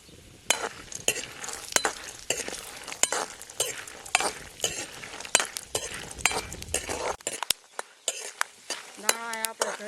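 Homegrown peanuts fry and sizzle in a pan on a village stove, a spoon scraping and clinking against the metal in quick repeated strokes, with the sizzle cutting out near the end.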